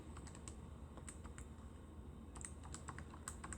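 Rapid typing on a computer keyboard while entering a calculation, irregular clusters of sharp keystrokes over a steady low background hum, fairly close and moderately quiet, with no voices.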